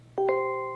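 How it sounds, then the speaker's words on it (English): An Amazon Alexa Echo smart speaker plays its short brief-mode chime: two soft, quick tonal strikes settling into a sustained, clear ringing tone that slowly decays, close and alone over a low steady hum. "that's the little chime she'll play"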